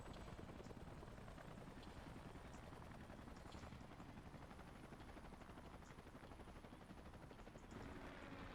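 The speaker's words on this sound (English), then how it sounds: "Let's call in the salvage choppers and get it out of here." Salvage helicopters in Xenoblade Chronicles arrive with a steady, fairly faint rotor chop that holds throughout, and no voices come in over it.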